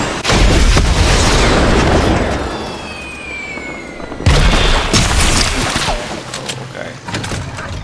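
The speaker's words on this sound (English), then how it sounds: "Someone's actually shooting at me?" Gunfire in a video game, with loud, sharp shots cracking close at the start and again around the middle, set against a noisy backdrop of in-game combat and a voice speaking.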